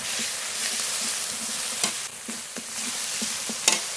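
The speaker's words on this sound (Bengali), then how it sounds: "যে মশলাটা বেটে রেখেছিলাম, জিরে, শুকনো লঙ্কা, কাঁচা লঙ্কা, রসুন, আদা একসঙ্গে বাটা সব দিয়ে দেবো।" Ground paste of cumin, dried and green chilli, garlic and ginger hits hot oil in a pan, giving a loud, dense hiss with a few soft stirring scrapes, close up and with no voices.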